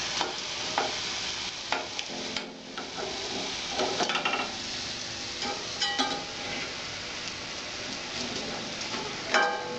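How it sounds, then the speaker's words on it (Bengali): Bengali khaja flour pastries frying in hot oil, a steady bubbling sizzle with occasional stirring clinks and scrapes throughout, close and fairly loud, with no voices. "এইভাবে সবগুলো খাজা আমি ভেজে নেব"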